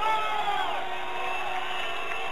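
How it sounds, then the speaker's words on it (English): A crowd at a high school varsity football game keeps up a continuous roar of cheering and whooping, loud and steady throughout. "Crowd starting to get into it."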